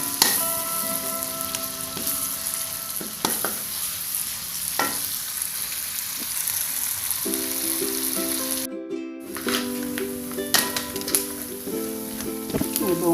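A spice paste stir-fried in a pan for a Cirebon green chili vegetable dish with shrimp sizzles steadily, broken by clattering stirring strokes and a brief pause before the frying resumes, close and alone.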